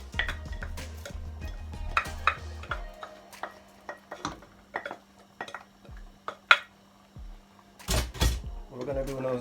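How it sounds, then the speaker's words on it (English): A spoon scrapes cooked Jamaican seasoned rice out of a pot in a series of close, irregular metallic scrapes and knocks, under a person's talking. "Scrape all of that rice out."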